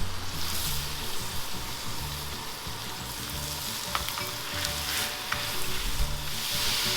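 Onions and ground beef sizzle steadily in a pan, a continuous close frying crackle with occasional brief pops and faint clinks, no talking.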